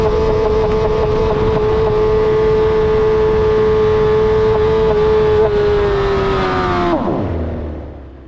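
An F1000 single-seater racing car with no traction control on a wet Silverstone track running on wet tyres, its engine holding a loud, steady high whine for about seven seconds before pitch and volume drop sharply as it slows.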